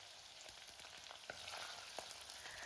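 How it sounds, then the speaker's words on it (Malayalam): Crushed garlic and ginger sauté in a pan for a Kerala stingray curry, a steady close sizzle with soft scraping stirs and light ticks throughout, no voice present. "അപ്പോൾ വെളുത്തുള്ളിയുടെ ഇഞ്ചിയുടെയൊക്കെ ആ ഒരു പച്ചമണം മാറുന്നവരെ ഒന്ന് വഴറ്റിയെടുക്കാം"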